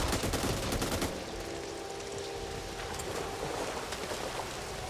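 Dense, rapid gunfire from the zombie shooter video game Back 4 Blood, a loud continuous volley of overlapping shots that runs for the whole stretch with no talk over it.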